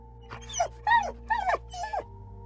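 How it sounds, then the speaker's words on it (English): A dog lets out four sharp, high yelps in quick succession, close and loud, over a low steady hum. "the dog yelped."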